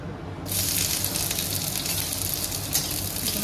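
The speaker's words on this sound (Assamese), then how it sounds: "পিঁয়াজখিনি অকণমান ভাজি ল'ম।" Onions drop into a pan of hot mustard oil, setting off a sudden loud, even sizzle that holds steady for several seconds, with no talking.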